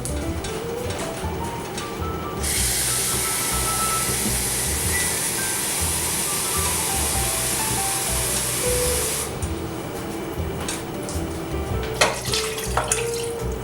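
Water poured into a pot of vegan chili, a steady splashing stream running for several seconds and then stopping, followed by light clinks and stirring noises.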